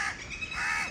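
A crow caws in a backyard garden during a summer rain, two harsh calls rising close by and fairly loud over a steady hiss of background noise.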